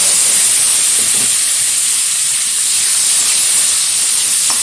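Peeled, washed cucumber pieces sizzle loudly in hot oil for a mung dal curry. A strong, steady frying hiss runs without a break and carries no voices.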